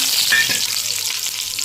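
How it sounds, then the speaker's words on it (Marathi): Cumin seeds crackle and pop in hot oil during tempering for a soybean pulao, a brief close, continuous sizzle with sharp crackles. "फोडणीसाठी जिरे टाकते. जिरे तडतडत आले की हा खडा मसाला टाकते"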